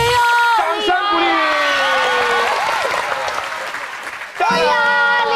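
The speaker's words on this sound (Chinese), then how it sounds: "掌声鼓励！" A studio audience at a children's TV game show breaks into loud applause with children cheering and shouting close by, the clapping and excited voices filling the whole stretch and surging again at the end.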